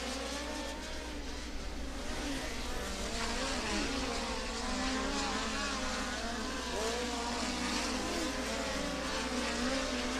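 Midget race cars racing on a speedway oval, several engines droning and wailing at a distance, overlapping continuously in a steady, fairly faint roar.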